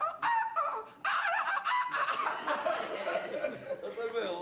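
A person imitates a rooster crowing with strained, honking vocal bursts, followed by laughter and chuckling close to the listener.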